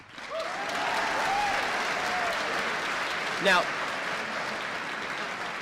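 A large audience of over a thousand people breaks into sustained, loud applause that fills the whole stretch, with a voice briefly speaking over it.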